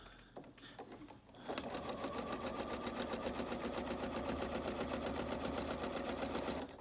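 Close-up, steady run of a sewing machine stitching along a quilt corner, a fast even needle rhythm holding for several seconds after a brief start with some handling sounds.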